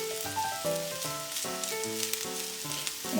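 Crispy chow mein noodles spread flat and frying over medium heat in a pan, giving a steady bright sizzle under a background of melodic music.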